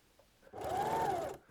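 A sewing machine runs in one short, steady burst as it back-stitches fabric at the start of a seam on a top, a close, fairly quiet whir that rises and stops cleanly.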